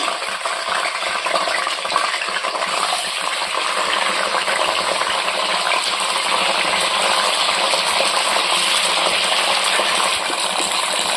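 Cut brinjals frying in hot oil in a pan give a dense, steady sizzle and crackle, close and loud throughout, with occasional clinks and stirring noises and no talking.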